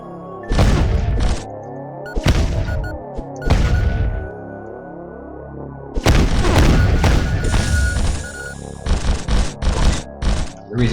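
Heavy explosions from an explosive weapon in the video game Neurovoider boom out in a loud series of bursts, a few spaced thumps followed by a dense cluster of blasts with rumbling tails and crackling debris.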